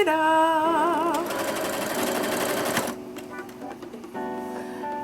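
A sewing machine runs in fast, close bursts stitching a pink shirt, its rapid mechanical whir starting and stopping, with a person talking over parts of it.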